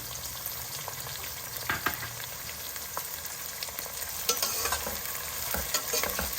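Onions and green chilies frying in a pan for jowar upma, a steady soft sizzle with scattered stirring scrapes and taps close by, no talking.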